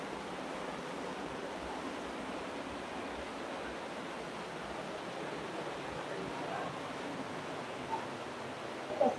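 Rough open-ocean waves heard from the deck of the cruise ship Grand Princess at sunset, a steady broadband wash of surf and wind that stays even and moderately loud throughout, with no voices.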